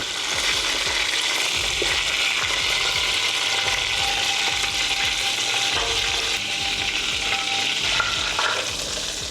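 Chicken fried steak frying in not-too-hot oil gives a steady, dense crackle and sizzle, close and constant with no gaps, broken only by faint clinks and scrapes from a utensil.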